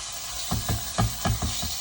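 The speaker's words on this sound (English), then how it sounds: "And get some bacon going." Bacon frying in a pan gives a steady soft sizzle with a run of low rhythmic clatters, about five evenly spaced knocks like the pan or utensil shifting, fairly quiet and with no talking.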